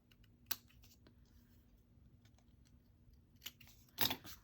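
Scissors snip a tart tin for a Christmas ornament in a few quiet, sharp cuts: one near the start, then two close together toward the end, with near silence between and no talk.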